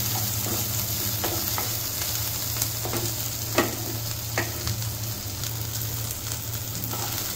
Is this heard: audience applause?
no